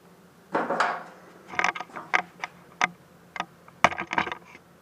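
Metallic clicks and ratcheting taps from a wrench tightening the rear wheel nut over a cone spacer and washer on a Ducati Monster M1100, a series of short, close, irregular bursts with no talk.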